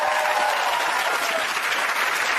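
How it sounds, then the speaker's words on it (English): Studio audience applause on The Jeremy Kyle Show, a dense, loud, sustained wash of many hands clapping at once, steady from start to finish. "Give him a round of applause."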